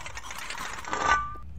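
Metal offcuts tossed into a bin at a blacksmith's workbench give a single brief metallic clatter with a short ringing tail, close and fairly loud.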